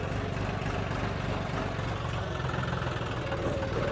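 A tractor engine idles steadily nearby on a farm while hauling a trolley out of a field, a constant low rumbling drone with no talking.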